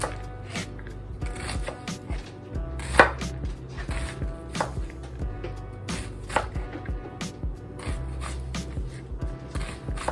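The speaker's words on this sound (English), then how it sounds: "Now we're just going to try and cut that as thin as we can" A knife slices an onion as thinly as possible on a cutting board, with crisp, rapid chopping taps repeating in uneven bursts close by.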